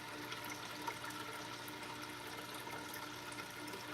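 An aquarium water transfer pump moving water, a steady broadband rush and gurgle with a faint hum, constant and close with no breaks.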